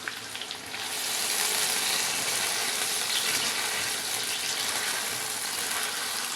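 Potato slices for an aloo katliyan gravy fry and get stirred in a pan, giving a loud, steady, close sizzle that continues without pause, with no talking.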